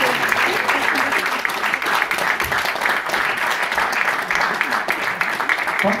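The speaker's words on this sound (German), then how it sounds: "Ein ganz langer Applaus." Sustained applause from an audience at a musical press presentation, dense continuous clapping throughout, with voices faintly underneath.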